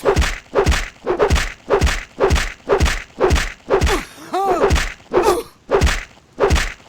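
Repeated melee poke attacks land in the video game Morrowind, a loud steady rhythm of thudding hits about every half second, with a brief groan-like voiced sound in the middle.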